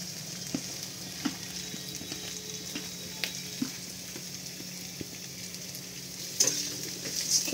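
Onion, green chilli and chopped carrot stir-frying in a pan, a steady close sizzle broken by scraping spatula strokes against the metal, with sharper clatters toward the end.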